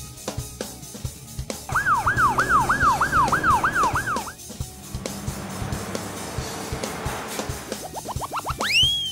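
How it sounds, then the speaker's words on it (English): A loud ambulance siren wails in quick repeated up-and-down sweeps for a few seconds, then gives way to rumbling traffic noise and rising electronic tones. "Ambulance."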